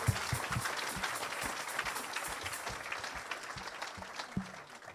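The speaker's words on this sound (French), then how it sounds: "Let me clap for the Lord." A church congregation clapping in praise during a worship service, dense overlapping applause filling the room at a steady level, fairly distant and continuous throughout.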